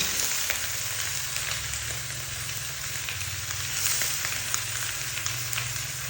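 Chicken pieces fry in a hot pan for Thai basil chicken, a continuous dense sizzle with crackling spits, steady and close with a low hum beneath and no speech.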